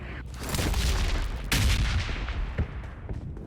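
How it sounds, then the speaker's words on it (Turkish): Grenade blasts and gunfire in the mobile battle royale shooter PUBG Mobile: a dense, loud burst of booming explosions and rapid shots, with a sharp crack midway and rumbling decay, no talk over it. "A bomba attılar"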